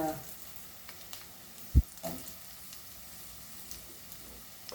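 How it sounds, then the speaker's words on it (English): Carrot and capsicum sauté in ghee over a high flame with a low, even sizzle, punctuated by a single dull knock of a utensil against the pan. "Fry this carrot first. Like saute it"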